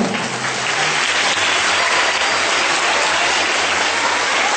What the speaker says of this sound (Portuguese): Palmas para a Vera, então.